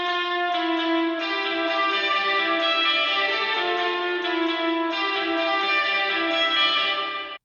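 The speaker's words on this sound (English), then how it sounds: "we're going to try this spring reverb on it anyway" Sustained harmonic tones pass through a Kiive XL-305 spring reverb unit set fully wet, giving a steady, washy, ringing tail. Two soft re-attacks break the smooth sound before it cuts off at the end.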